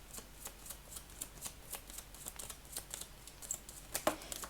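Tarot cards riffle and slide as a deck is handled and shuffled during a love and relationship reading, a steady run of soft papery flicks and taps up close, alone without speech.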